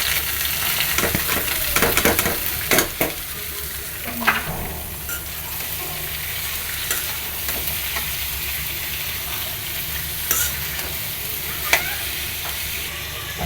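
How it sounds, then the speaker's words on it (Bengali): Potatoes, flat beans and green chilies drop into browned onions and fry in a pan, giving a close, busy sizzle with sharp stirring clacks and scrapes early on that settles into a steadier crackle. "আর এদিকে পেঁয়াজ ব্রাউন হয়ে গেছে, আলু শিম আর কাঁচামরিচ দিয়ে দিচ্ছি"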